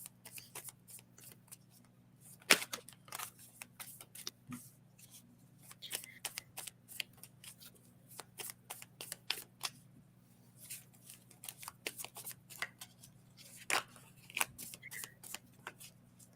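Reading cards shuffled and pulled from a deck, a long run of quick, crisp riffling and flicking bursts, close but fairly soft, over a faint steady hum.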